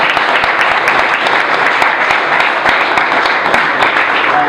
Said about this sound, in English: let's give Frank and the entire panel a round of applause